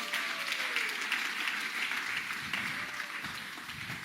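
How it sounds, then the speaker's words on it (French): A church congregation applauds loudly, a dense, sustained wash of clapping with faint cheers mixed in, steady throughout. "Est-ce qu'on peut acclamer très très fort le Seigneur?"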